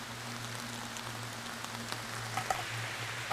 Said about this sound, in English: now that the rain's picking up really good